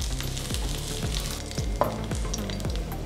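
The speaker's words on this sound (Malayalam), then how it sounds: "നമ്മുടെ ചുമന്നുള്ളി പച്ചമുളകും ഒന്ന് നമ്മുടെ തേങ്ങയുടെ ഇട്ട് നമുക്കൊന്ന് മൂപ്പിച്ചെടുക്കാം." Shallots, green chillies and grated coconut roasting in a pan for a roasted coconut chutney, giving a steady close sizzle broken by regular scraping strokes of stirring, with no talk.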